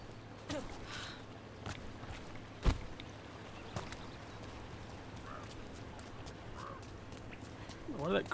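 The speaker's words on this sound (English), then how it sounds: "Why did that crow sound so fake?" A crow caws quietly in Dragon Age: The Veilguard, a thin, oddly artificial call set among faint footsteps, soft thuds and low ambient hum, with a person's voice heard faintly.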